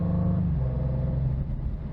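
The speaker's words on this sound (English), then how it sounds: "it's still got that sonorous exhaust note. It almost sings as you pull it through the revs." A 2027 Maserati GranTurismo Modena engine growls under revs, its exhaust note a deep, fairly loud rumble that dips in pitch partway through and continues steadily without speech.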